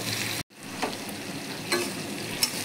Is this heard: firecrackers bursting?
no